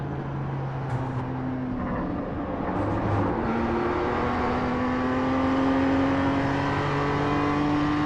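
A BMW M2 Cup race car in iRacing on the VIR North circuit drones loudly under sustained load, its engine note climbing steadily through a long pull with brief tonal shifts near shifts or throttle lifts, close and continuous with no talk.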